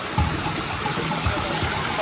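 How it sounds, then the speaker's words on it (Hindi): Water flowing in a stream just below a viewpoint near the Bada Aapkhol waterfall in Bargarh, Odisha, a steady, dense rushing wash that stays loud and even throughout with no talk. "जस्ट नीचे में पानी बह रहा है"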